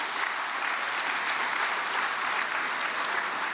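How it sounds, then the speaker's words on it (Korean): Church congregation applauds to welcome Pastor Kang Yong-gyu at a prayer service for peaceful reunification, a steady, dense wash of many hands clapping at even loudness throughout, with no voices over it. "우리 강용규 목사님 박수로 환영하겠습니다"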